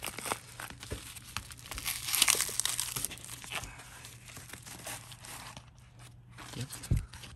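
Padded envelope being torn open, close crinkling and tearing of paper and bubble padding, with a sharper rip in the middle and soft rustling afterward.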